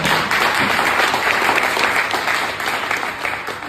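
An open mic crowd breaks into applause for a performer, a loud, close burst of many hands clapping that holds strong for a few seconds and gradually thins out.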